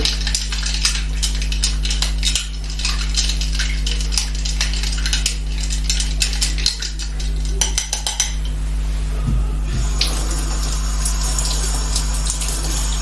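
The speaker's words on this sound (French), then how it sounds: "On va touiller un peu." A cocktail being stirred in a glass or shaker, a steady watery swirl with light clinks of a spoon against the vessel, loud and close, with a low constant hum underneath and no talking.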